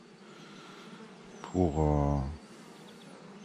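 A bee from a small hive buzzing close by in a brief loud burst of under a second, set against a quiet outdoor background.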